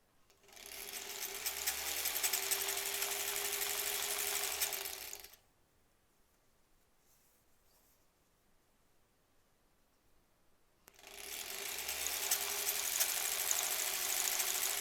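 A home sewing machine stitching fabric face masks runs in two steady whirring bursts, about five seconds each, with a quiet pause between them and no talking.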